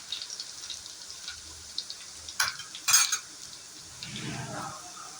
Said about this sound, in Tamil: கடுகு நல்லா பொரிஞ்சு வந்ததும் வச்ச பூண்டு சேர்த்துக்குங்க. பூண்டு நல்லா ஃப்ரை ஆகட்டும்.